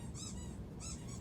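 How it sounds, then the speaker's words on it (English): Two short, high, faint squeaks sound indoors about half a second apart over a low steady background rumble. "Where is the squeaking coming from?"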